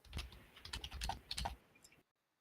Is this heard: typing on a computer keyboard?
yes